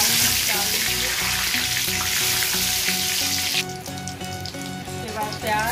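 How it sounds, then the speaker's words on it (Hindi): Cumin, bay leaf and red chilli fry in hot oil in a kadai, giving a loud, steady sizzling hiss for most of the clip before it thins out toward the end, with light clinks in the background. "कढ़ाई में थोड़ा तेल डाल दीजिए सब्जी के लिए, जीरा डाल दीजिए"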